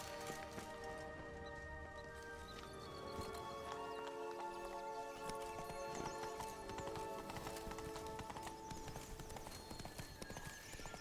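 Horse hoofbeats from Roach in The Witcher 3 clop steadily through a busy game soundscape, layered with ongoing music and ambient effects at moderate level, with no speech over them.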